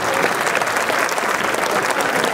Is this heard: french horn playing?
no